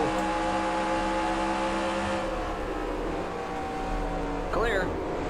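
A race car engine in NASCAR Racing 2003 at Nashville Superspeedway drones steadily at held revs, a continuous layered hum with a brief rising whine near the end; a voice talks faintly underneath.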